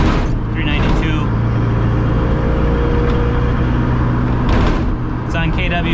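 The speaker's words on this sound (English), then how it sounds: "Because there's no sound deadening in here, it is a relatively loud car" Steady engine drone of a Pontiac Solstice making about 390 horsepower on KW coilovers, heard loud from inside a cabin with no sound deadening, a constant low hum running throughout with brief higher bursts near the start and end.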